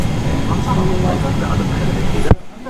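Steady droning propeller airplane engine noise inside the cabin, heard from a seat beside the engine, a constant low rumble with people talking over it, cut off abruptly near the end.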